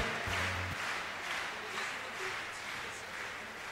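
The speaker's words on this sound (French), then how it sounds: "On peut les applaudir." Audience applause for the finalists at a Cesta Punta pelota final, a steady wash of clapping from a crowd at moderate distance, fairly faint, with a brief low tone near the start.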